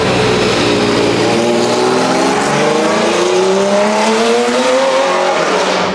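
A race car at full speed on a circuit during a track day, its engine pitch climbing steadily through the gears, loud and continuous; no speech.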